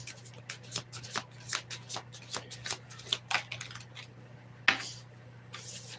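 Tarot cards are shuffled by hand, giving a run of crisp riffling bursts in an uneven rhythm, close and clear over a low hum, with a sharp knock near the end.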